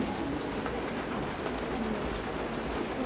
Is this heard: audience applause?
no